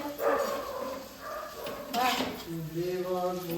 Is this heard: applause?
no